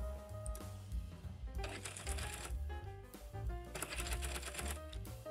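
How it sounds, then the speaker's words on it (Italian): An overlocker serger stitches fabric around curves and corners with a fast, rattling mechanical hum. The motor runs in steady bursts that speed up and ease off, close and continuous. "Cominciamo a cucire."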